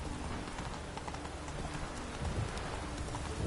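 Roach the horse's hooves clip-clop at a steady walking rhythm in The Witcher 3, faint and continuous over a soft rainy ambience, with no voices.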